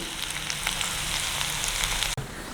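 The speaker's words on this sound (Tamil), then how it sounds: "இது இப்படியே மெல்லமாக வதங்கி கொண்டு இருக்கோம்." Onions soften in hot oil with a steady, close sizzle for fenugreek curry in a village-style Tamil kitchen, one sharp clink from a spoon against the pan near the end.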